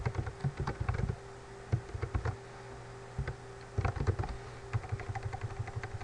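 Typing on a computer keyboard, uneven bursts of close, quiet key clicks with short pauses between runs, no talking.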